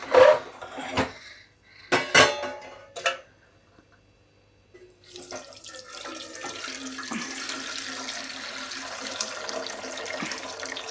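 Leftover cooking water from boiled pav bhaji vegetables is poured into a pot: a few clanks and splashes at first, then a steady, close, continuous gush of running water.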